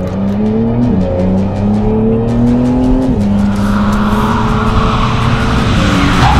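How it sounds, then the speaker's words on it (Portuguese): A Porsche 911 GTS brakes hard, its tires squealing loudly in long sliding tones over the engine roar, then the squeal fades into broad road noise as the car slows, close and continuous. "Mano, olha que esse carro freia, velho."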